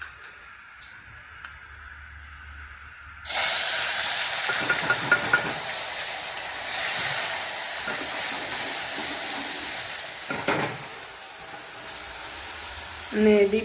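Pav bhaji being tempered in a pan, with boiled potatoes, brinjal and onion: a loud, steady broadband sizzle bursts in abruptly after a few quiet seconds and keeps going. Faint voices can be heard underneath.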